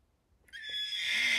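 A horse neighs after a brief silence, a bright, sustained whinny that rises in strength and holds close and loud to the end.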